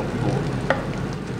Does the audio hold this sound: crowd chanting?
no